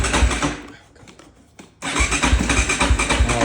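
A KTM 450 dirt bike is fired up with its electric start, giving a loud, close engine roar that briefly dies away and then catches again into a strong, steady run.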